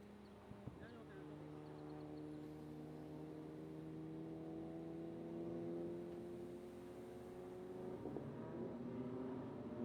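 A Formula 1600 single-seater race car weaving at low speed behind a safety car to warm its tires, engine drone steady and sustained with shifting pitch over the clip, with a commentator's voice partly over it.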